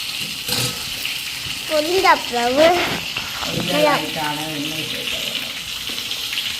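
Eggplant fries in a pan with a steady background sizzle, while a voice talks over it in the middle of the clip.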